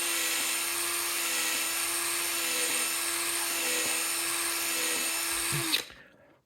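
A power drill bit bores holes through a triangular part for an NXT Xtrem model, a steady high whine held for nearly six seconds with faint pitch dips, ending abruptly as the motor stops.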